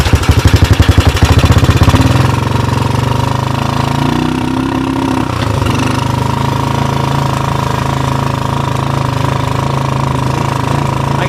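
A 1984 Honda TRX200 ATV runs while being ridden in third low gear with a flat rear tire. It starts with a rapid chugging pulse, then settles into a steady, loud, close engine drone.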